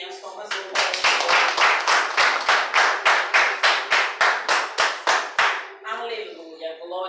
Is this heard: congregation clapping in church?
yes